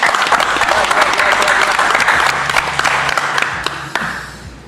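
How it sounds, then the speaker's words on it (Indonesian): An audience bursts into applause at a live event: a dense, loud roll of many hands clapping together, holding strong for a few seconds before thinning out, with faint voices mixed in. "Ayo tepuk tangan kali"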